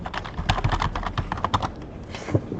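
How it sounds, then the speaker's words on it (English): Fingers rattle across a computer keyboard in quick, uneven bursts of clicks at close range, with no voices. "Way too much typing."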